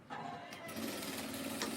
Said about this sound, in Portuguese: Eu vou costurar isso aqui.